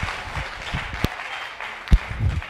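Indoor crowd applause for a badminton mixed doubles match at a Swedish championship tied 17-all, with scattered, uneven clapping and a few louder claps standing out over a short stretch.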